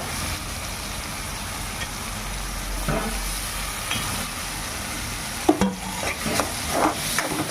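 Tomatoes and onions frying in a pan for a Karnataka-style flattened-rice dish, with a steady sizzle under scattered spoon scrapes and knocks that grow busier toward the end.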